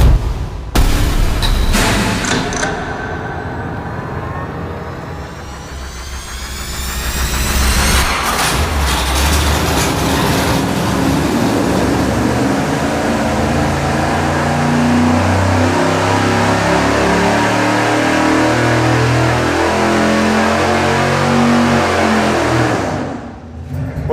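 A 598 cubic inch engine run on a dyno, revving up and holding a loud, sustained roar under load for most of the run before cutting off near the end.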